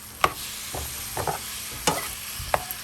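A utensil stirs powdered sugar into frozen fruit cooking in a pan, with a few distinct scraping and clinking strokes over a faint steady sizzle; no one speaks.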